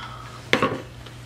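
A utensil scrapes and clinks twice in a container while candle wax and fragrance for a pillar candle are stirred, short and close against a quiet room.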